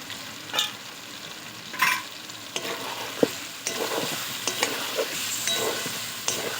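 Chicken in yogurt and spices stir-fried in a pan, with a steady sizzle broken by scattered scrapes and clinks of a spatula, close up with no one speaking.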